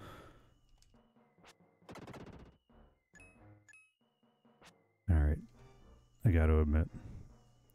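In the Illusion of Gaia video game, an exploding friar enemy goes off in two loud bursts late in the sequence. Earlier come sparse chimes, clinks and rapid electronic crackles.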